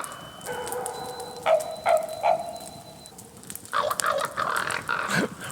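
A raven calls in the woods, giving bark-like 'bow wow' notes that mimic a dog. Three short, ringing calls come first, then a rougher cluster of calls, at moderate distance.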